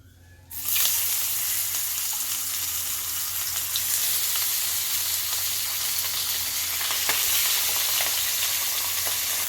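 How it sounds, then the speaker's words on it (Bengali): Pabda fish frying in a little hot oil gives a loud, steady sizzle that starts abruptly after a brief quiet moment and keeps going evenly, with no one talking over it. "তেলটা ভালো করে গরম হয়ে গিয়েছে এবার আমি মাছটাকে ভেজে নিচ্ছি"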